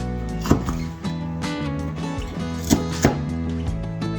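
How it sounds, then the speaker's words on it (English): A knife chops food into strips on a board, a few sharp, close thwacks spaced irregularly over a steady background hum. "Cut these up. Nice little strips. And we'll chop it up just like we did that."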